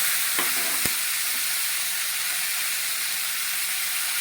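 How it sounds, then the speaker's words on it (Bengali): Onion and capsicum frying in a pan for chili jackfruit, a loud, continuous close sizzle and hiss following a couple of brief clinks as the vegetables go in. "এবার পেঁয়াজ আর ক্যাপসিকাম দিয়ে দিচ্ছি।"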